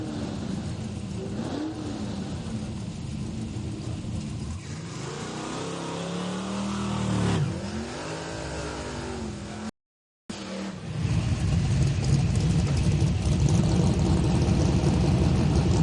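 Gary Ross's modified power-adder Mustang drag car at Heartland Park in Topeka, running under a loud, continuous engine roar that rises and sweeps in pitch as it accelerates, with a brief dropout midway and a heavier, steadier roar afterward.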